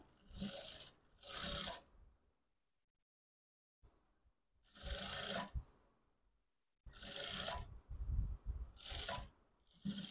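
A sewing machine stitches the side joint of a blouse in three separate runs of whirring, rasping mechanical bursts, with short gaps and one longer pause between them, close and fairly quiet.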